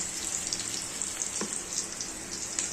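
Onions frying in a pan until browned for a home-style vegetable dish, a soft steady sizzle with faint scattered crackles and light watery clicks, fairly quiet and close.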